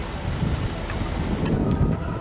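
Storm wind blasts steadily across a microphone in a broad, roaring rush with low rumble, sustained and loud throughout with no clear thunderclap standing out.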